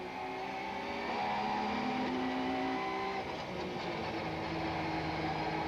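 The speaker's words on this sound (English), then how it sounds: "Race cam action from the Van der Merwe Ford" Van der Merwe Ford touring car racing at Kyalami in the 1995 South African Super Touring Championship, heard from onboard as a steady engine drone under load with shifting pitch.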